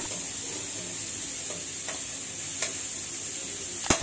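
Grated carrot sautéing in a pan, a continuous bright sizzle with a few sharp scrapes and clicks of a utensil, close and fairly loud, no one speaking.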